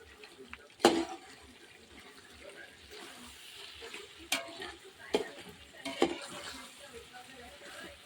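Spicy dry masala chicken is stirred and sautéed in a pot over a wood-fired clay stove, with soft continuous sizzling and a few sharp scraping clinks of the spoon against the pot.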